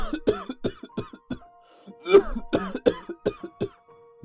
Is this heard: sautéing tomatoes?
no